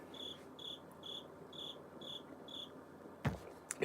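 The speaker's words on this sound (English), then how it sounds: "This cricket's going to have to die." A cricket chirps indoors in a steady, evenly spaced series of six short pulses against a quiet background, followed by a couple of brief knocks or handling sounds near the end.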